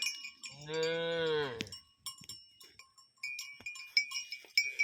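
Cattle moo close by, one long low call lasting about a second, followed by scattered clinks and the ringing of a cowbell, with no talk.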